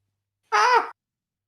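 A person's voice imitating a seagull, one short strained squawking cry about half a second long, close and loud, set between stretches of silence.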